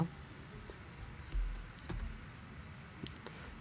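A computer keyboard tapped a few times while pasting a script for Wifi ID auto login on a MikroTik router, with sparse, faint clicks and a short cluster of keystrokes over quiet room hum.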